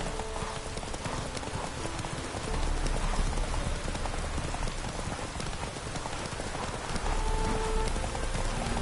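Roach, the horse in The Witcher 3: Wild Hunt, clip-clops steadily at close range over a continuous patter of rain, with the hoofbeats strengthening midway.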